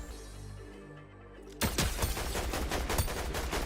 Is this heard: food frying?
no